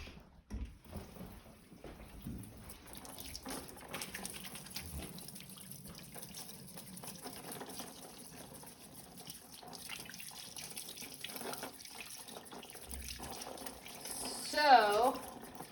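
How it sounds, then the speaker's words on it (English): Hands being washed under a running tap at a chef's workstation, a soft steady stream of water splashing in a sink, faint and low throughout, with a brief louder splash near the end. "as you're watching me wash my hands"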